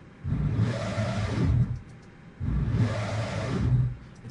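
A detuned, pitch-shifted dragon roar sound effect, raised two semitones and thickened with chorus: two long, growling, rumbling roars of similar length separated by a short gap, moderately loud and heard alone.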